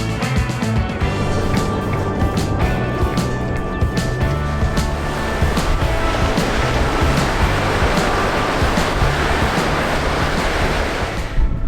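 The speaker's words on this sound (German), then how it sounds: "Es kommen ein paar richtig schöne Wellen rein." Ocean surf rolls in steadily at Lobitos, Peru, a continuous loud wash of breaking waves with wind buffeting the microphone throughout.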